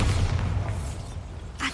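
A Bombarda spell blast inside a goblin mine in Hogwarts Legacy, a single low booming explosion that rumbles and fades, followed by a short sharp burst near the end.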